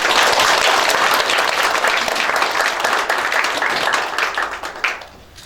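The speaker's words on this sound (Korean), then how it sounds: "그동안 큰 노고에 큰 박수를 부탁드리겠습니다." Loud, dense applause from the chamber at a closing session of the Yangpyeong County Council, sustained for about five seconds, then dwindling to a few last claps.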